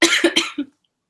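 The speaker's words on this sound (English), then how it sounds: "Oh my God, I can't stop coughing." A coughing fit: four quick, harsh coughs in rapid succession, close and loud, fading out after the last one and followed by silence.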